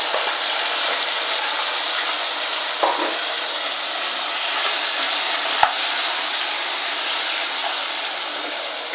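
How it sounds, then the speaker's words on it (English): Tomatoes added to softened meat fry in a pan, giving a steady, even sizzle throughout with a couple of faint stirring clicks, no talking. "My meat has softened, so I'm going to add my tomatoes."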